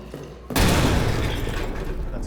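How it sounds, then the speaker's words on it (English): A single loud explosion in Amnesia: The Bunker erupts suddenly after a quiet moment, then rumbles and decays over the following two seconds. "That's a loud explosion, but I was hoping it was gas."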